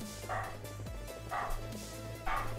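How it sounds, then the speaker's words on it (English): A dog barks loudly three times at a steady spacing, close by, over a low hum. "Oh my, the dog's popping off now."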